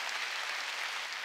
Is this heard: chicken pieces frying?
no